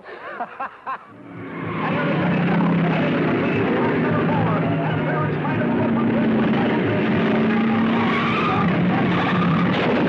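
Race cars skid and roar through a six-lap qualifying heat on a dirt-style oval, a loud, continuous engine drone with tire squeal that swells in after a brief opening and holds steady to the end.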